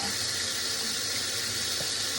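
Water runs steadily from a kitchen tap into a sink while dishes are washed, a constant broadband hiss that stays at an even level throughout, with no talking.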